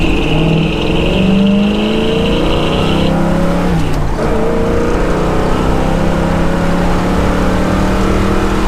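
A 1965 Pontiac GTO engine running loud and close, its steady rumble rising and falling through several revs, with no talking over it.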